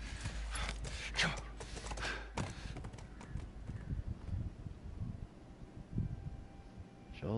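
Horse hooves clip-clopping in The Last of Us video game, a steady walking rhythm of hoofbeats under continuous ambient noise, with occasional voices talking over it.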